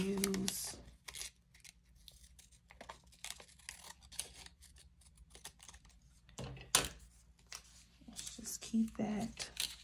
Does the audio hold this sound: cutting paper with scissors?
yes